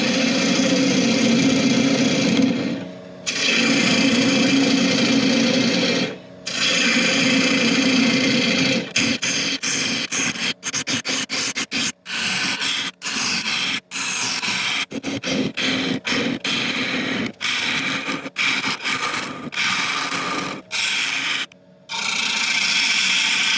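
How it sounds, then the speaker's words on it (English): Woodturning on a lathe, hollowing a bowl with a 60-degree bowl gouge: a steady loud rasping cut over the lathe's hum, broken by brief pauses and then by rapid repeated interruptions as the tool is lifted and reapplied. "I'll start off with the 60-degree bowl gouge so we can remove plenty of material"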